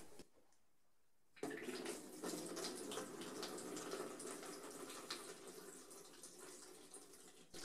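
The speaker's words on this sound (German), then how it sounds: "Die Zeit der Vorwässerung ist jetzt abgelaufen, wir gießen das Wasser weg." Pre-wash water pours from a film developing tank for C-41 processing, a steady, fairly loud splashing gush beginning after a brief quiet moment and continuing to the end, up close with no talking.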